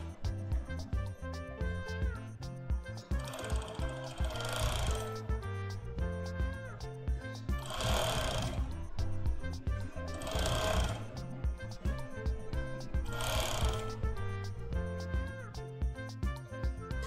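A sewing machine stitches fabric for a modern shirt, running in a loud, steady mechanical hum and rattle, with repeated short surges where the stitching speeds up and then eases back.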